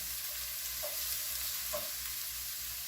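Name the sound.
onions and garlic frying in pan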